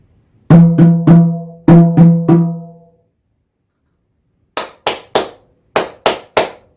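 A close, crisp pair of hands claps rhythmic patterns for a remote music lesson: two groups of three claps, a pause, then a brighter sequence of three and two. The claps are loud and sharp, with silence between them.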